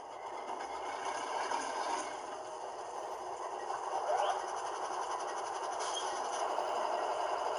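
An HO scale GE Dash 9-44CW model locomotive in BNSF livery runs its startup sound on a test track, a steady engine drone with faint clicks and squeals, continuous and moderately quiet.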